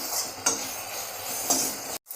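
Crushed garlic stirred in a hot pan, a soft steady sizzle with two light scrapes of the spoon against the pan, close and without talk.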